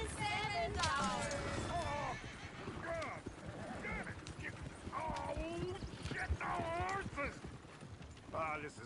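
Horses in the Red Dead Redemption 2 video game neigh and whinny repeatedly while hooves clip-clop steadily beneath, with voices talking over the busy scene.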